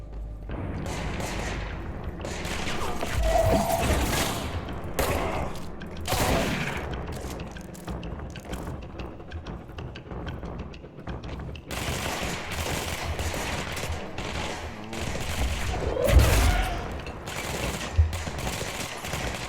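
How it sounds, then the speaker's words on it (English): Gunfire rattles through the video game Control in repeated bursts of shots and heavy impacts, loud and close, rising and falling over about twenty seconds with booming hits near the end. "Who's shooting at me?"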